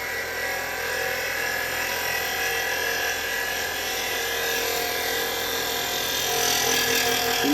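A roughing gouge cutting a wooden bowl on a woodturning lathe gives a steady, close whirring hiss of wood being shaved, unbroken and fairly loud over the motor's hum.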